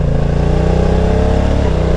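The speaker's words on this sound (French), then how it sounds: "Il fait un beau bruit le moteur." A Honda NT1100 motorcycle engine accelerates, a loud close steady mid-pitched drone with pulsing low rumble held for a couple of seconds.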